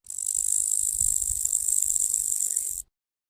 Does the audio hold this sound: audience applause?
no